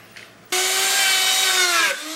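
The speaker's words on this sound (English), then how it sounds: "take my router bit and I'm going to rebate down in here half the thickness" A router bit cuts a rebate along a 3/4 inch plywood door edge in a single loud, steady whining burst of about a second and a half, after a quiet start.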